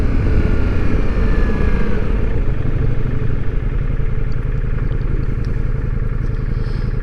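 Ducati Multistrada V4S motorcycle on a Sunday ride, its engine a steady, loud drone with wind rush running continuously, no talking over it.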